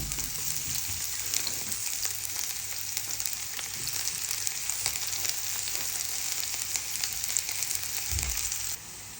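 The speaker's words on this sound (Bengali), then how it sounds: "পেঁয়াজটা ভাজা হয়েছে" Onion frying in a pan with turmeric for a kochur loti dish, a steady loud sizzle and crackle running throughout, close by, with no talking.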